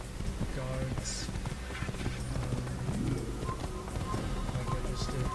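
Galloping horse hooves in the Assassin's Creed video game beat out a quick, steady clip-clop rhythm, with a neigh partway through and someone talking over the game sounds.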